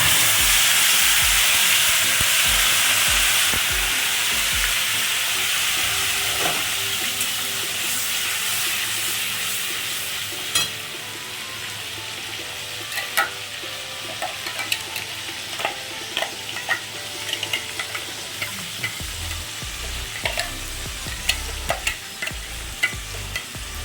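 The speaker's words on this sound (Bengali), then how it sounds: "মশলাটি ভাজা হয়ে গেছে এর চাইতে বেশি আমি ভাজবো না" Whole spices and bay leaf fry in hot oil in a pan for a restaurant-style chicken curry, a loud continuous sizzle and hiss up close, with repeated scraping stirs that grow sharper and more regular toward the end.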